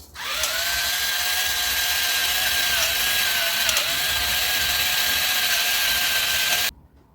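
A small electric chopper grinding meat with black pepper whirs steadily at high speed for several seconds, its motor tone wavering slightly, then cuts off abruptly.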